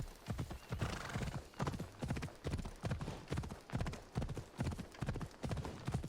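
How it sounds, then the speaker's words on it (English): Horse hooves gallop in Assassin's Creed Odyssey, a steady rapid clip-clop rhythm of repeated beats, fairly faint, with occasional speech over it. "Good horse."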